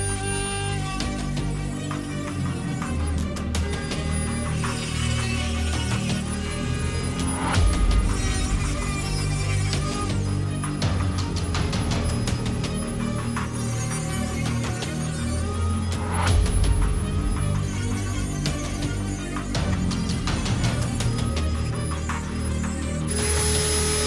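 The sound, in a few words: cutting an AK-74 cold hammer forged rifle barrel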